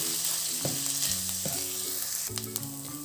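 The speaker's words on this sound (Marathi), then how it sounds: "ह्याला आपल्याला 2 मिनिट या तुपामध्ये असं परतून घ्यायचं आहे." Washed rice sizzles steadily in hot ghee while being stirred for traditional coconut rice, a continuous close frying hiss with occasional scraping touches, accompanied by a low stepped melody underneath.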